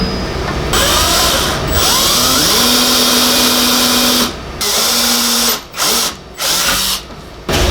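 A loud power drill whines as it bites into steel box tubing, pitch shifting under load, then stops and restarts in several short bursts.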